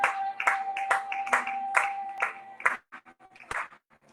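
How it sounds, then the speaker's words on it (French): Congregation at a French-language Sunday church service claps in a steady rhythmic beat, about two claps per second, fairly close and moderately loud, thinning out toward the end. "Applaudissons pour sa gloire"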